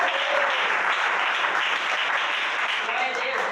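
Church congregation clapping their hands together in a sustained, dense wash of applause, loud and steady throughout, with some voices mixed in beneath the clapping.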